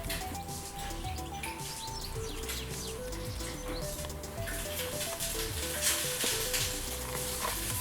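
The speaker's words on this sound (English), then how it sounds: "Somebody's frying eggs." Steady crackling sizzle of eggs frying in a pan, with faint birdsong and a soft melodic tone running underneath.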